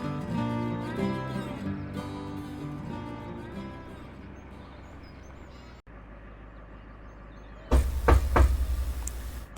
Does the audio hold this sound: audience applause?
no